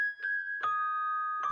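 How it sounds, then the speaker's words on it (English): Bell phrase sample from a beat-making sample kit: a sustained, ringing bell tone with three soft struck accents spread across the phrase, clean and alone. "Those are real bell phrases."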